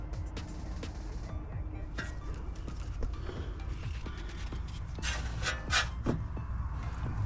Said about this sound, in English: Tighten up that bolt over there.